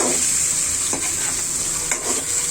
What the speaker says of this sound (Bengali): এভাবে মশলার সাথে মাছগুলো ভেজে নিতে হবে